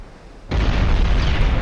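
Heavy shell striking a warship's belt armor in the Ultimate Admiral Dreadnoughts naval video game: a sudden loud explosive boom after a brief quiet moment, followed by sustained rumbling roar.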